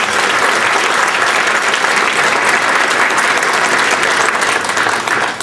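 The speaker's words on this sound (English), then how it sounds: "Once again, let's give a big round of applause for the Hartford and their sponsorship." A recognition event audience gives a big round of applause for a sponsor, dense sustained clapping from a large crowd, loud and steady throughout before tapering slightly at the very end.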